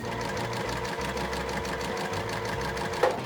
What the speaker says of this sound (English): I'm going to put them together right sides together like this and sew a 4 patch